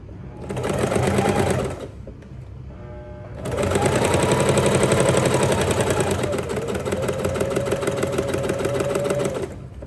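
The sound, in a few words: sewing machine stitching fabric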